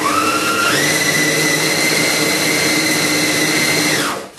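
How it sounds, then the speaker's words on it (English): A kitchen blender whizzes nuts and desiccated coconut in one loud, continuous whir that rises in pitch as the motor speeds up, holds steady, then spins down at the end. "I'm just sticking them into a blender in here, so just give it one last whiz."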